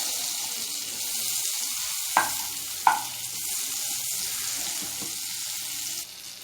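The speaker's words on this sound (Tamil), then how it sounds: "இப்போது ஒரு பேனில் 1 ஸ்பூன் பட்டர் விட்டுக்கலாம்." Spoonful of butter sizzles in a frying pan, a steady close crackling hiss that runs throughout, with two sharp knocks of a utensil or pan partway through before the sound drops off at the end.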